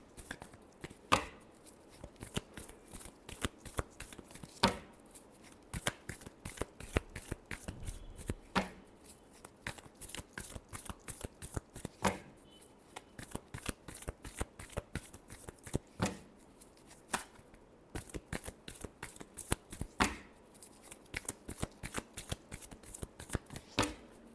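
Tarot cards shuffled by hand in a long continuous run of rapid, crisp riffling and slapping bursts, close and fairly quiet, with no voices.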